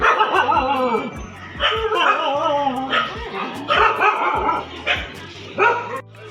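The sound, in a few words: dogs barking at a train station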